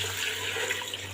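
About one and a half litres of water is poured into a cooking pot for beef yakhni pulao, giving a steady, close rushing splash that runs unbroken for just over a second with no talking.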